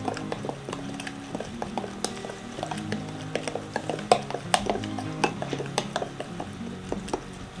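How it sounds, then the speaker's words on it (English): Cornmeal batter for Depression-era cornbread sticks is stirred in a bowl, a spoon clinking and scraping repeatedly against the sides in an uneven rhythm, close and fairly quiet, with no talking. "mix it well."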